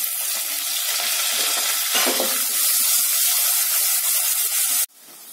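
Grated ginger, green chilli and curry leaves fry in a pan of ghee and oil with a loud, close, continuous sizzle that hisses steadily and then cuts off abruptly near the end.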